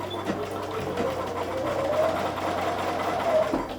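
A sewing machine runs steadily, stitching pieced quilt fabric in a continuous close whir with slight speed variations, and no talking.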